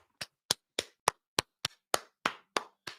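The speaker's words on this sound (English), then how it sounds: "Everybody gets a golfer's clap." Studio crew on a sports talk show giving a golf clap: ten separate, evenly spaced claps over about three seconds, crisp and fairly close, with no talking.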